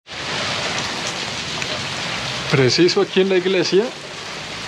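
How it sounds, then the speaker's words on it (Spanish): A heavy rain downpour roars as a dense, constant hiss, loud and close, while someone speaks briefly over it partway through. "y nos agarró un aguacero"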